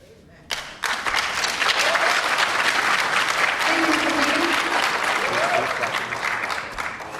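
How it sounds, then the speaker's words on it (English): Audience at a community meeting about a bridge on Harsens Island bursts into loud, sustained clapping after a brief quiet start, continuing steadily with some voices mixed in. "Again, please no clapping."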